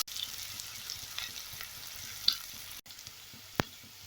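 Small shallots sautéing in a pan with fried moong dal, a continuous soft sizzle broken by a few light spatula taps and clicks, close and without talk.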